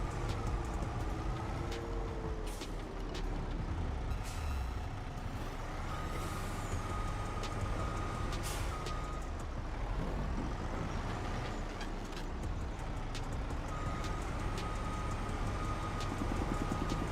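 Truck in Farming Simulator 25 rumbling steadily with a low engine drone, sharp air-brake hisses and bursts of higher tones over the top, loud and close for the whole stretch with no talking.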